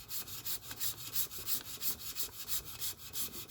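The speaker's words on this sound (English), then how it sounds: "Try and keep that sandpaper as flat as possible." Sandpaper rubbed by hand in quick regular back-and-forth strokes across a Ford Focus ST225 engine part during a rebuild, faint and close with a steady rhythm of about four strokes per second, no talk.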